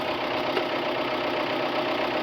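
A skid steer loader's engine with a failing starter, running in a steady, droning idle with a faint knocking texture, loud and close, no voices.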